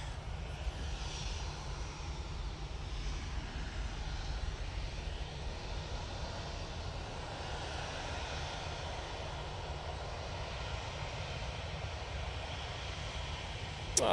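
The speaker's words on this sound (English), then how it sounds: "Ryanair's coming down Tango and going off to Oslo." A Ryanair jet taxiing and departing Manchester Airport for Oslo gives a steady, moderately distant engine rumble with strong low-end drone, continuous and unbroken, with no voices over it.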